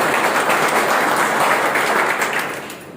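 Loud, sustained applause from an audience at a direct selling business presentation, a dense wash of clapping that holds steady for a few seconds before easing slightly at the end.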